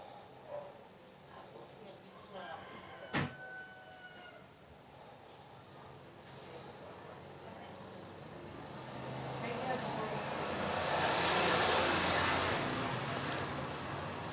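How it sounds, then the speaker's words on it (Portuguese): Cars and motorcycles pass outside on a nearby street, heard from indoors as a low distant rumble that swells into a louder broadband whoosh near the end, with a few faint knocks earlier. "desculpa aí o barulho, porque passa carro, moto aqui toda hora"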